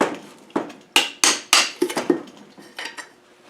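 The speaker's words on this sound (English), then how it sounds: "I'm going to take this cover off." Metal cover being worked off a Series 3 transfer case: a run of sharp, close metallic knocks and clanks, about nine irregular hits with ringing decays, no talking.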